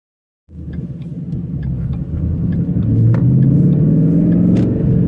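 A 2013 Ford Mustang GT on a test drive after a suspension upgrade, its engine rumbling steadily and building slightly in intensity, loud and close from inside the car, with no talking.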